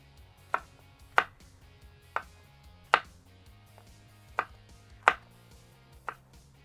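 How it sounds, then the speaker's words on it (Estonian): A knife slicing vegetables into strips about a centimetre wide on a cutting board for a chicken burger, seven crisp, evenly spaced chops over a quiet background, with nobody talking. "siis ma viilutan nad sellisteks 1 sentimeetri laiusteks ribadeks enam-vähem"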